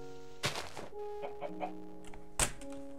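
Chickens in a survival video game give short clucks and squawks, with a loud burst near the start and another near the end, plus softer clucks between, over steady game ambience and tonal hum.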